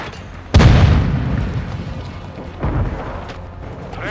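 Frag grenade explosion in Call of Duty: Modern Warfare 2, a loud close boom with a heavy low rumble that rolls off over a second or two, followed by a smaller second thump.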